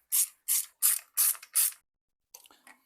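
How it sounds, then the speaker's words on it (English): Five short, crisp bursts of a ratchet turning a 10mm bolt on a BMW N63 V8 engine, evenly spaced and close, followed by faint tool clinks. "So let's remove the 10mm bolt."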